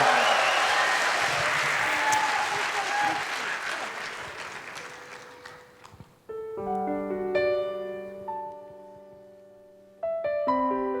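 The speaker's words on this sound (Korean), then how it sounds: "박수로 한 번 더" Loud, sustained audience applause at a church gospel concert for several seconds, fading out, followed by soft sustained keyboard chords with a brief swell of clapping near the end.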